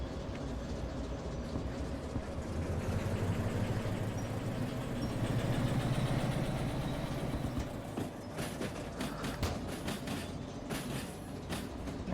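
A locomotive engine in the Derail Valley train game runs with a slightly sickly tone, a loud, steady, dense rumble with rail rattle on top and sharper clicking bursts late on, and no talking.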